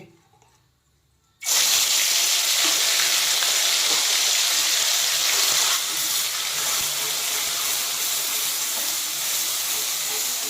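Onion paste hitting hot oil and frying in a pot for a homestyle chicken curry, a sudden loud steady sizzle and hiss that continues unbroken after a quiet moment.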